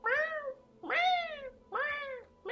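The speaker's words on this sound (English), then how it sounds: "I'm pretty sure you guys can hear my cat going." A pet cat meows three times, each a loud, drawn-out call close by with short pauses between, and no voices.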